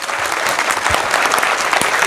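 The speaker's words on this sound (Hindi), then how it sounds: "ऐसी शुभकामनाओं के लिए तालियां होनी चाहिए" Loud, dense applause fills the hall at a motivational talk, a continuous close-up wash of many hands clapping.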